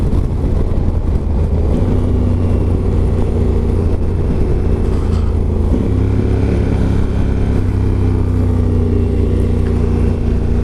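A Kawasaki Z650 motorcycle being ridden, its engine a loud continuous drone close to the mic with pitch shifts as gears change, mixed with heavy wind rush.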